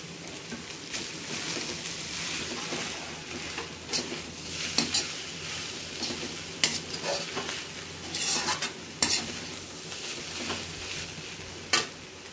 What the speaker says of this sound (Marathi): थोडा भात शिजवलेला आहे तो मिक्स थोडा थोडा करून.